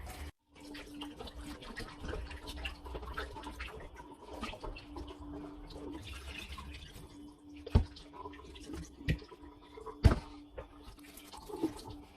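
Water runs and splashes irregularly as raw chicken is rinsed under a tap, with dripping, sloshing and a few sharp knocks against a sink.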